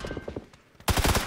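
A suppressed MP submachine gun fires in a video game, first as a few soft spaced pops, then after a short lull as a loud, rapid burst of muffled shots close by.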